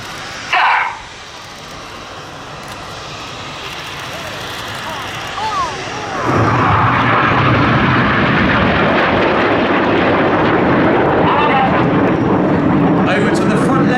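Red Arrows Hawk jets roar past during an air show flying display, a broad jet rumble swelling from moderate to loud and sustained overhead, with a commentator's voice over the noise.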